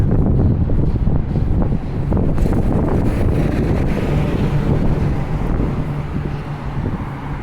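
Strong wind buffets the microphone on a street in Halifax, a loud continuous low rumble of gusts that never lets up across the whole stretch, with no speech.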